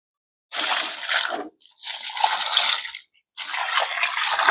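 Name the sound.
water poured into a hole for an RV anchor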